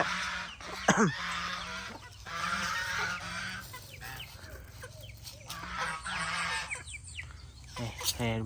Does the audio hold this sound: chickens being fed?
yes